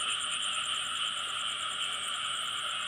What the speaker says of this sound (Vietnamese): mà ếch còn kêu quá nhiều à